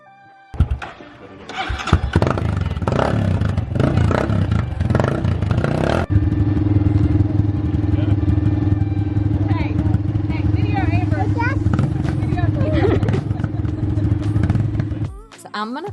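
A teenager's new dirt bike engine kicks to life with clattering starts, then settles into a steady idle and revving as riding begins, loud and close, with people talking faintly in the background.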